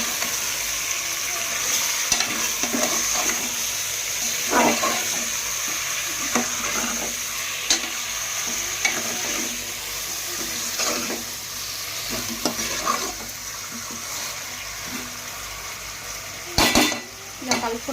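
Chicken pieces are stirred and cooked in a pot for Telangana-style chicken pulao, a steady sizzle with recurring spoon scrapes and clinks of metal cookware, close and without talk.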